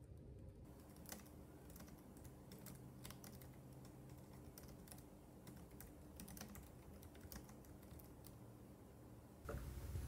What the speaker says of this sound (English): I did it so I can let you guys hear how the typing sounds like on the pink K380 keyboard